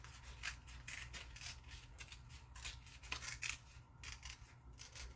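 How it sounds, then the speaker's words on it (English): Card stock being torn by hand along a scored line, a close, dry ripping rasp in short repeated bursts with no talk. "Tear it till it's done, till you get to where you stopped"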